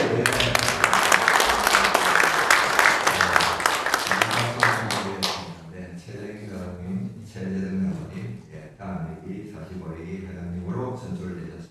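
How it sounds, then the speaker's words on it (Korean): Applause from a church presbytery assembly approving its newly named officers, a dense burst of many hands clapping for about five seconds before giving way to talk over the hall. "박수로 받기로 동의합니다"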